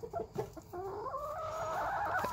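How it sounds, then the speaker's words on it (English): A backyard laying hen that lays big blue eggs clucks close by, a few choppy clucks breaking into a longer, rising drawn-out squawking call. "She's a chicken. She lays eggs."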